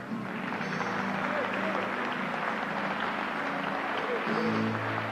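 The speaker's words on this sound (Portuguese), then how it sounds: "Se você quiser aplaudir Jesus" A church congregation claps in a soft, continuous wash of applause, with voices and sung tones rising faintly beneath it.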